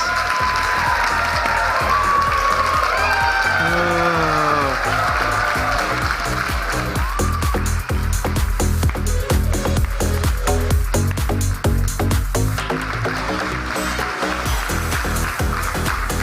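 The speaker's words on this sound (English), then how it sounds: "You guys have the standing applause thing down." At an awards ceremony, right after Corporate Innovator of the Year is announced, an audience rises for a standing ovation: loud, sustained applause with cheering filling the room, backed by music throughout.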